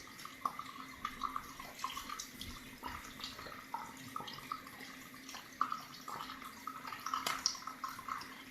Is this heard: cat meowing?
no